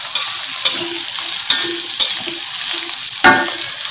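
Tofu and salted fish stir-fried in a pan sizzle loudly and steadily, with a utensil scraping and clacking against the pan about once every half second; no voices.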